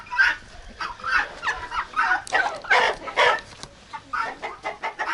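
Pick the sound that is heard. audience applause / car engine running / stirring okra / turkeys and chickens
turkeys and chickens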